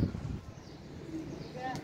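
A pigeon coos softly during pigeon training, low throaty murmurs heard faint amid outdoor background, with a brief higher chirp near the end.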